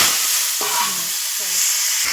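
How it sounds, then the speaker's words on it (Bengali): Potatoes fry in hot oil with panch phoron in a kadai, a loud, close, continuous sizzle with soft scraping stirs underneath and no talking. "আস্তে আস্তে জাল দিলে আলুটা ভালোভাবে ভাজা হয়ে যাবে"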